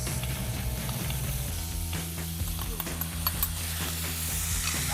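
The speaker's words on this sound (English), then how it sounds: "Just saute these up a little bit." Food sautéing in a hot pan gives a steady, close sizzle with light stirring scrapes throughout, alone with no talk.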